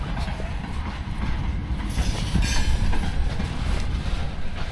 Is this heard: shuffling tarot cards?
no